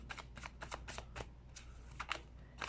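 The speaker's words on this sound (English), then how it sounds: "we are going to shuffle again for the monthly spread" Tarot cards are shuffled in a quick series of crisp riffling and slapping bursts, close and fairly quiet, with short pauses between bursts and no talk over them.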